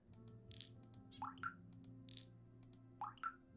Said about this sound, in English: Listen to that beautiful drippy drip drip.